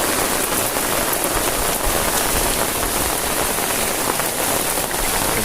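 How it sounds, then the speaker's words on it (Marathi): Steady heavy rain pours at night in Ratnagiri, drops pattering densely on an umbrella and spattering the camera, a continuous close hiss with no voices. "पाऊस पूर्ण कॅमेऱ्यावर थेंब उडत आहेत पाण्याचे"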